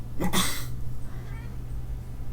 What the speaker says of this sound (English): That is not a dog, that is my cat.